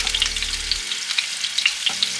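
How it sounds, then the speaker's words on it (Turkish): Steady crackling sizzle of meatballs frying in a hot pan, with a low hum that cuts out partway through and returns near the end. "köftelerimiz de o şekilde hafif bir şekilde kızartmaya başlıyoruz"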